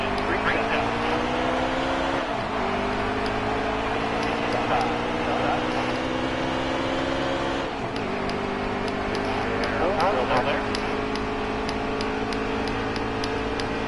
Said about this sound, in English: Green flags out racing.